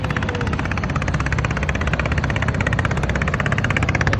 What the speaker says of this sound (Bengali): ট্রলার যাচ্ছে এখানে